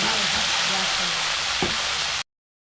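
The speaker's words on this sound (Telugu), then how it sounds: "తర్వాత మనం కట్ చేసుకున్న టమోటాను కూడా ఇందులో వేసుకొని బాగా అయితే ఫ్రై చేసుకోండి." Tomato and green chilli frying in a pan, a loud, dense, continuous sizzle up close with one brief stirring knock before it cuts off abruptly.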